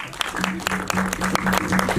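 A crowd at a Delhi film promotion event for Ek Villain Returns applauds in a steady wash of clapping, with a sustained tonal hum and scattered louder claps running through it.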